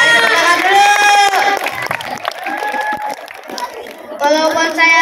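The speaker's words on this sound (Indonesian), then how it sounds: "Tepuk tangan dulu" Applause and cheering from a school audience at a Youth Pledge literacy event, a loud burst of clapping and children's voices that fades and then swells again, mixed with shouting.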